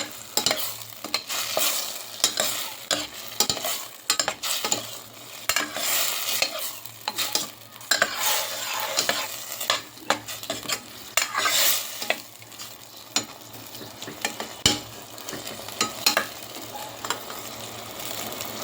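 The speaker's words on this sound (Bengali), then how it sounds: "সিমের বিচিটা ভালো করে কষিয়ে নিতে হবে।" Bean seeds are stir-fried in a pan, sizzling continuously while a utensil scrapes and stirs in quick, uneven strokes throughout, close and fairly loud with no talk.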